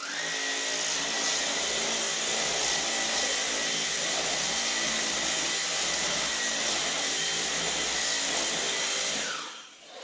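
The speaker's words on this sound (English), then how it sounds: "So there you have it, Samsung's Jet 70 Pet Vacuum." A Samsung Jet 70 Pet cordless stick vacuum with its floor head attached runs at a loud, steady whine for about nine seconds, then powers down. No one speaks.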